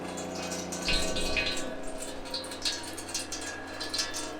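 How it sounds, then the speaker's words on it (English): Water running for the first time through the plumbing of a newly built kitchen in a converted bus, a steady close gush and trickle with bursts of splashing and faint voices behind it. "to run water through our kitchen for the first time"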